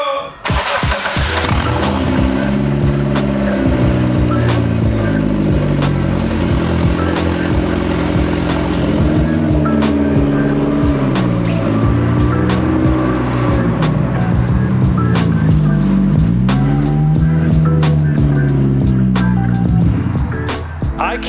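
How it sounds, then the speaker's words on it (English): A turbocharged Mitsubishi Eclipse cranks and fires up, then settles into a loud, close idle with rising and falling revs and a steady exhaust rumble throughout. "Here is the first ever startup that I think has been on camera for this car."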